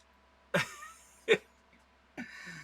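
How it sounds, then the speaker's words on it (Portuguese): Three separate coughs from choking on water, close and fairly loud, spaced out with short quiet gaps, the last one trailing into a rougher throaty sound. "Tosse que não acaba mais."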